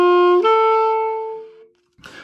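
Saxophone rip with ghosted notes, slowed down: a single sustained horn tone slides up slightly and then rings on as one fading note, followed by a brief noisy burst at the end.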